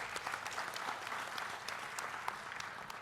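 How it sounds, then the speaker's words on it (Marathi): A hall full of farmers and attendees applauds in a steady, dense wash of clapping, moderately distant and even, with no talking over it. "एकदा शेतकऱ्याकरता टाळ्या होऊ द्या उपस्थिता करता."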